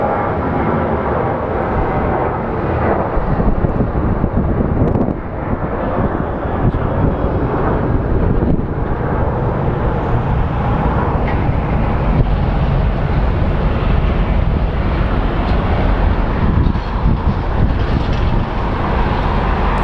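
An American Airlines airliner, flight 1821 bound for Philadelphia, roars at Phoenix Sky Harbor airport, a loud sustained rumble mixed with gusty wind buffeting the microphone, steady for the full stretch without speech.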